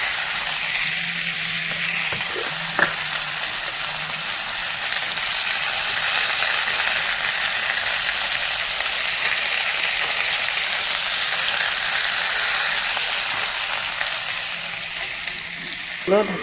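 Curry sizzles steadily in a pan after turmeric and salt go in, a constant broadband frying hiss throughout with a few faint clinks and a brief voice near the end.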